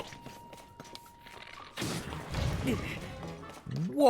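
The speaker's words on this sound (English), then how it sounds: "That was a huge explosion." Exploding rocks in Zelda: Tears of the Kingdom, a sudden loud crash and crumbling burst after light tapping footsteps, ringing out for a couple of seconds before a voice cuts in at the end.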